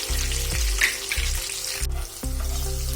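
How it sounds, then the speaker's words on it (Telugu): Green chillies fry in oil in a pan with a steady close sizzle, broken by a few short clanking stirs. "పచ్చిమిర్చి కూడా మనకు ఫ్రై అయిపోయింది"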